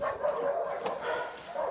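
Dogs bark and yip in short repeated bursts inside a new shelter room, a steady layered chorus of several animals close by with no talk over them.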